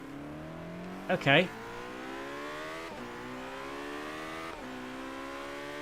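Racing engine of a McLaren P1 in Forza Horizon 3, holding a steady drone with harmonics that climb through gear changes at full throttle, with a short spoken word near the start.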